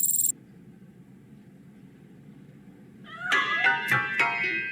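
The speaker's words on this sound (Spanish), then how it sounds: "That cat must be hiding inside." In RoboCop Rogue City, a cat hidden inside a piano meows several times in quick succession after a long quiet stretch, its cries loud and wavering, preceded by a short sharp burst at the very start.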